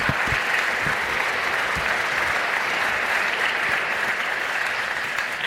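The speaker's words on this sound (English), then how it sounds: "let's give them one more round of applause" Sustained, dense applause from an audience at a university athletics Hall of Fame ceremony, loud and even from start to finish with no pauses.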